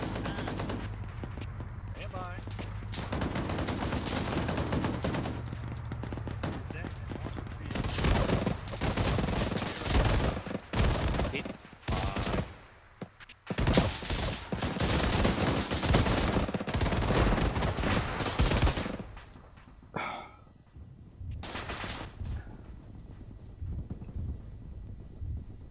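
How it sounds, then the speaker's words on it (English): Bursts of suppressive machine-gun fire in the military shooter Arma 3, dense automatic volleys and single shots rattling almost continuously over wind noise, with a voice speaking at times in between. "lay the suppressive fire down"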